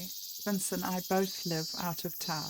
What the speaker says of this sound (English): Apologies for the noise of cicada beetles in the background today.